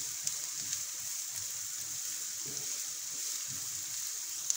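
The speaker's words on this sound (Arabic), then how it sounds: "ونخلوها تتقلى وتتحمص بيان" Chopped onions frying and browning in a pan, a quiet steady sizzle with faint low stirring knocks and a couple of small pops.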